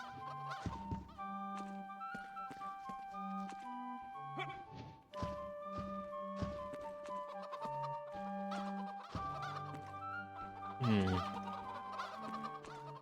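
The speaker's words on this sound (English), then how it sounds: "I could try killing every chicken in the room." Chickens cluck in the fantasy role-playing video game Divinity II, set against background game music with sustained tones and occasional thunks.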